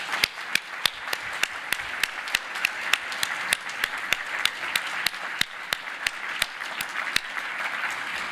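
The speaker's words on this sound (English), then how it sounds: "please join me again in a round of applause" At the close of the Clade X pandemic exercise, an audience gives a round of applause: a thin, steady wash of clapping with a few sharp, distinct hand claps standing out at regular intervals, continuing without a break.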